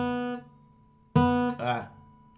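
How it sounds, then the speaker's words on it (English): Guitar strings plucked straight on with a fingertip, slowed down: a decaying note, a pause, then a sharp attack with the click of the string leaving the fingernail, followed by a buzzy smeared tone. "the string goes off the flesh, hits the nail, makes a click sound, and then goes off the nail"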